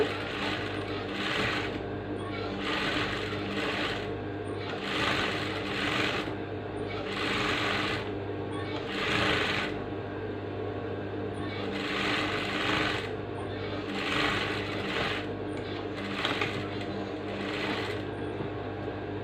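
A sewing machine shirring frock fabric with elastic thread, running in repeated bursts of rapid stitching separated by brief pauses, close and clear throughout.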